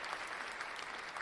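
Small audience clapping during a podcast, a brief, faint, steady patter of hands.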